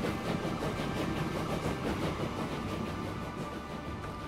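A train running in the simulation game Transport Fever 2, heard as a faint, steady rolling rumble with a rhythmic clatter of wheels and a low engine drone.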